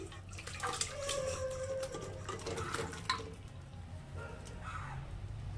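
Liquid from pressure-cooked mutton masala, cooked through four whistles, pours out of the cooker in a steady, moderately loud splashing stream with some faint clinks, and no talk.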